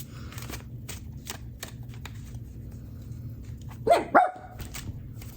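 Two sharp dog barks ring out close together near the end, after a stretch of faint rustling and soft tapping.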